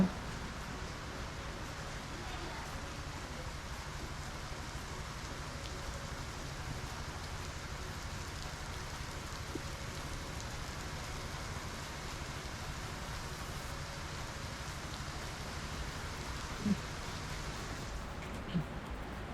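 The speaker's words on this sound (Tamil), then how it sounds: "இப்போ நான் காட்டுறேன் எப்படி மழை பெய்யுதுன்னு மட்டும் பாருங்கள் வெளியே" Heavy rain falls steadily outdoors near Masinagudi, a soft, even wash of noise that stays constant throughout, with no speech and only a couple of faint knocks near the end.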